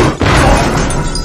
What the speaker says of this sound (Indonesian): ada ledakan.